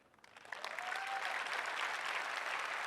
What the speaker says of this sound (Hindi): बिना पूछे बिना बताए आपने तालियां लगाई हैं